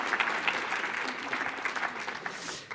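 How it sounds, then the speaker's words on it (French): A conference audience at a cancer institute meeting applauds the host at the closing session, a lively burst of many hands with audible individual claps, tapering off at the end. "je pense qu'on peut l'applaudir."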